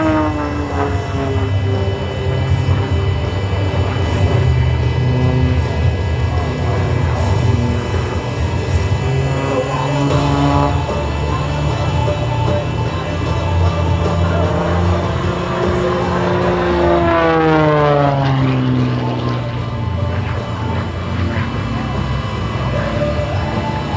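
The MXS-RH aerobatic airplane flies a snap roll and spin at an airshow, its engine droning loudly and steadily, with pitch sweeps as it maneuvers. A commentator talks over it throughout.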